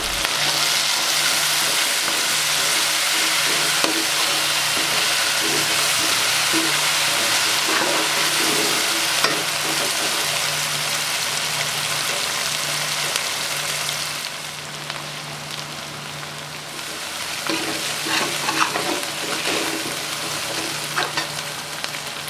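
Ground green chillies fry in a pan for a cabbage, potato and capsicum dish, giving a steady, fairly loud sizzle that runs throughout, with brief stirring scrapes and a slightly softer stretch midway.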